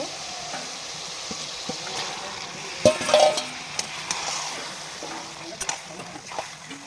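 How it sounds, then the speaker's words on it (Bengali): Marinated raw chicken going into a frying spiced tomato masala for country-chicken biryani, giving a quiet sizzle with wet splatter and a burst of scraping and clatter midway as it is stirred, nearby and fairly faint. "মশলা আর টমেটো একসঙ্গে কষানো হয়ে গেছে। এবার দিয়ে দেব ম্যারিনেট করা মাংস।"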